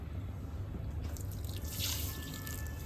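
Water poured into a pan on the stove while making bottle gourd barfi, a soft splashing trickle that swells near the middle, close and alone.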